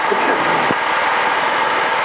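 A DR400 light aircraft engine drones at high power during takeoff, a steady dense roar heard close from inside the cabin.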